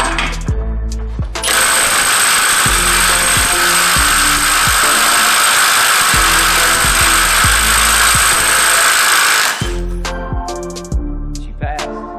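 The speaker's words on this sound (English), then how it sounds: "I'm gonna start with the Milwaukee, but I'm not gonna hammer more than about 10 seconds." Very loud, continuous hammering of a Milwaukee 3/8-inch drive impact wrench running for several seconds, with shorter bursts before and after the main run.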